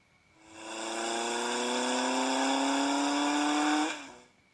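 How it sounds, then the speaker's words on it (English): A motorcycle engine revs in one sustained, close run, its pitch climbing steadily for about three seconds before cutting off. "Motorcycle,"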